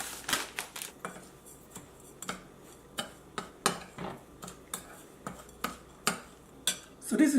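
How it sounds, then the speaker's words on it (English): Metal spoon mixing calamari with panko breadcrumbs in a bowl, producing a series of soft, irregular clicks and scrapes close by, with no voices. "And now what I'm going to do is to mix this with my spoon here."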